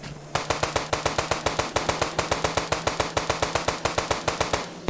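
Rapid explosions or gunfire in the GTA 5 mobile video game: a dense, regular series of sharp blasts, roughly six per second, that stay loud and steady throughout.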